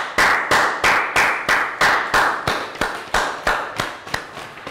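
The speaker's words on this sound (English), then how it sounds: "So well done, guys. Round of applause." A small group in an English lesson claps a round of applause: about a dozen crisp, evenly spaced claps, close and alone, slowing slightly toward the end.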